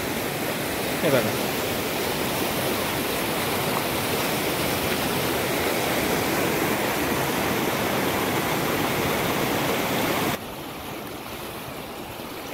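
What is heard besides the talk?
water rushing down a stream after rain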